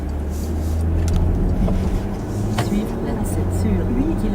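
A 4x4 car hums along as it pulls onto a motorway, a steady low engine and road drone inside the cabin, with people talking over it.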